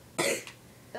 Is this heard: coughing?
yes